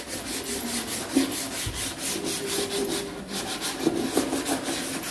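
A brush scrubbing back and forth in quick, repeated strokes while cleaning a water purifier filter housing, a steady close rasping rub without speech.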